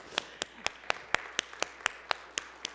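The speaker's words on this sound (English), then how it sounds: "A huge round of applause." Church congregation clapping in a steady, evenly spaced rhythm of about a dozen sharp claps, fairly quiet and without voices over it.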